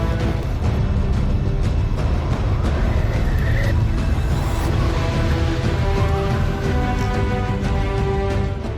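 A homemade 1/12 scale RC Volvo 9400 B9R multi-axle bus runs indoors during testing, giving a steady, loud electric motor whine with gear hum and rolling noise that holds constant throughout.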